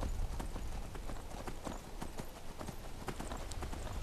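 Horse hooves clip-clopping steadily in Skyrim, a quick, even rhythm of sharp hoof strikes on ground, fairly loud and close, with no talking over them.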